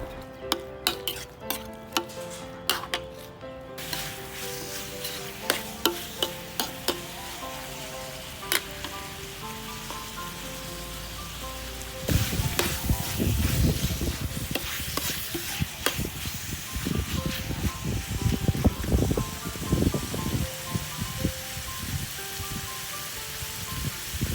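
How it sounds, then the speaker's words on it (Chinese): Chicken thigh meat being stir-fried in a pan for a Thai red chicken curry, with a spatula scraping and tapping, first in sparse clicks, then a steady close sizzle under busy stirring. "接下来就是慢慢炒，让我们的鸡腿肉炒熟啊"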